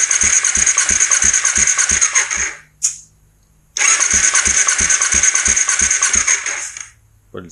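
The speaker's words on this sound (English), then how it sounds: "got a wet compression test going now" 2005 Kawasaki Ninja 250 engine cranking on the starter during a wet compression test, two loud close bursts of rapid rhythmic whirring and chugging split by a short pause with a click, and no talking.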